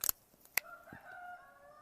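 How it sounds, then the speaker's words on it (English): A rooster crows faintly in the distance, a drawn-out tonal call following a couple of sharp snipping clicks, with no talk over it. "And now the rooster is chiming in too."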